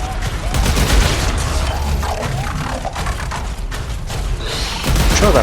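Dense, sustained gunfire from a weapon in the sci-fi shooter Warframe, loud and close, with rapid overlapping shots and heavy thuds running through the whole stretch.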